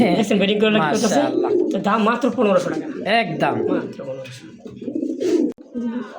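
Pigeons coo in low, throaty rolling calls, close by, while someone talks over them almost continuously.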